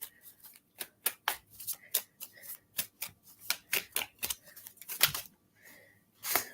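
A deck of playing cards is handled and shuffled close by, producing a quiet string of sharp riffling snaps and flicks at an uneven rhythm, with short pauses between bursts.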